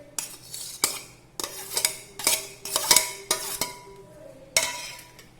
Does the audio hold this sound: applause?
no